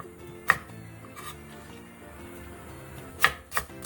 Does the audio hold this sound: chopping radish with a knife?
yes